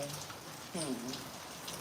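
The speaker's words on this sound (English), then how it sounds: "It's raining here today, right now." Steady rain falls outdoors as a constant hiss, and a voice speaks briefly under it.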